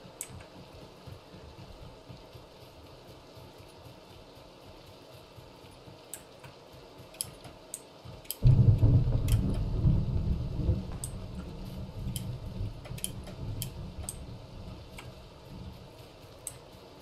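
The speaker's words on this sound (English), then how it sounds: "Yay, it's raining." Rain and thunder inside the video game Battlegrounds, a steady patter of rain that swells into a loud, sustained rumble of thunder midway, with sharp ticks of drops over it and no talking.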